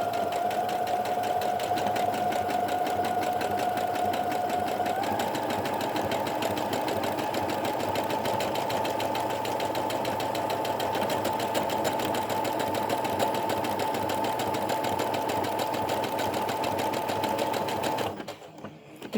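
A domestic sewing machine stitches a buttonhole with a loud, continuous whirring hum that shifts slightly in pitch partway through, then slows and stops on its own near the end.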